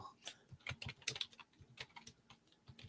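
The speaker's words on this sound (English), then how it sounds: "Typing, typing, typing." Steady typing on a computer keyboard, with quick, uneven bursts of close key clicks and a few louder taps.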